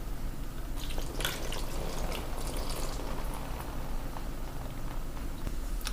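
Water splashing over a rusted steel plate being rinsed after rust-remover treatment, a continuous loud spattering rush with dripping and pouring texture throughout, no speech.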